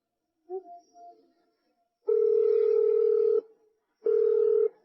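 Telephone tones in an audio drama: a short chirp followed by two long, steady electronic ring or dial tones, separated by a pause, clear and loud against silence.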